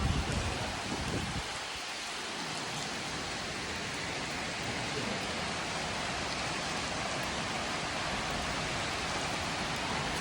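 Rain pours down around a rural Thai house, a broad, continuous hiss of falling drops. A brief louder rustle opens it, then the downpour settles into an even, moderate wash with no talking.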